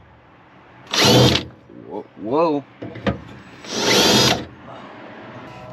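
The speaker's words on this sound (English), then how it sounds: "Then you want to mark the holes for drilling." A power drill fitted with a drill bit bores holes to mount a bracket on a Toyota Tacoma, whirring in two loud bursts separated by quieter handling noises, with a short spoken exclamation between them.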